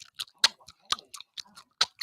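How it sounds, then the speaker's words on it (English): A mouth chews gum with quick, wet, clicking smacks at an irregular rhythm, close and quiet, with brief silences between bites. "stop chewing this gum like this"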